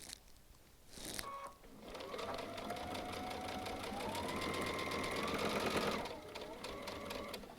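Three layers of denim are stitched on a Baby Lock Altair sewing machine, a close, steady run of fast rhythmic needle thumping and motor whir lasting about five seconds after a brief clack at the start.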